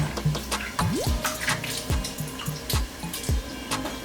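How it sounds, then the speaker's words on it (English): White jasmine rice is washed under a running tap in a kitchen, with water splashing and sloshing in quick irregular bursts as the grains are swirled by hand, fairly close and without speech. "so I'm washing the rice"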